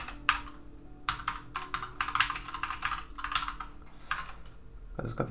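Rapid clattering keystrokes on a computer keyboard, typed in quick bursts with short pauses, close and fairly clear, ending with a low thump.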